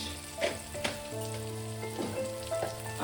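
Masala with turmeric, cumin powder and coriander powder being sautéed in a pan for a fig and prawn curry, a steady low sizzle with occasional soft stirring scrapes.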